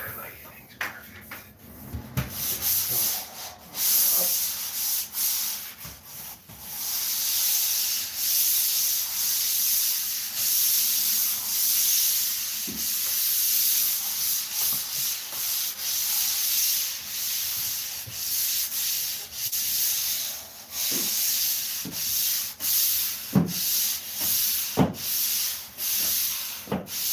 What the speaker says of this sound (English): I'll do one little pass with the sanding pole